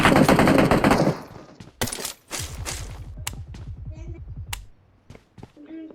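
Bursts of automatic gunfire from a machine gun in the battle royale game PUBG on the Erangel map, a loud dense volley at the start followed by quieter rapid shot trains and scattered single reports.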